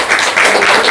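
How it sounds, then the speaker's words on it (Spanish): Loud, continuous audience applause at a film presentation, a close, dense wash of many hands clapping without a break. "Bueno, primero un aplauso muy grande para Ingrid."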